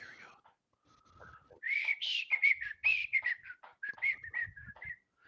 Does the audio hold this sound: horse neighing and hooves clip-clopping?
no